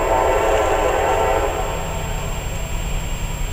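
A westbound CSX freight train on the Peninsula subdivision rolls past with a loud, steady rumble of cars and wheels, a sustained horn tone sounding strongly at first and then easing off.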